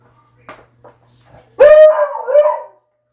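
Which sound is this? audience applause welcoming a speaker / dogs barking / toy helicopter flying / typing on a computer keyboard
dogs barking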